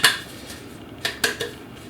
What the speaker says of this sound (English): We're going to add a pinch of flour, and I just like to shake it around, tap the pan, really just get it in every nook and cranny.